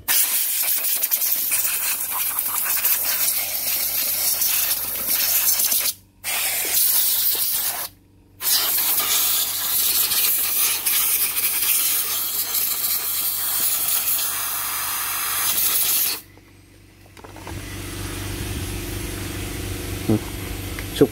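A Robin two-stroke engine being cleaned with a spray can gives long, steady hissing bursts broken by a few short pauses, with a low hum underneath throughout.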